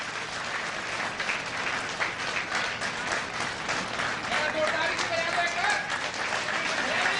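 An audience applauds at a speech at a medical college event in Morena, steady close clapping that carries for the whole stretch, with some voices mixed in.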